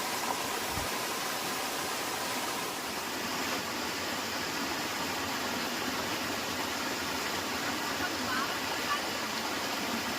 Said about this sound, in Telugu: సో చూడండి అసలు వాటర్ ఎంత కంటిన్యూస్గా ఫ్లో అవుతూనే ఉంటుంది